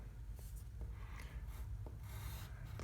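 Soft, continuous scratchy rubbing as a thumb is sketched onto paper, quiet and close, with faint strokes repeating in a steady rhythm.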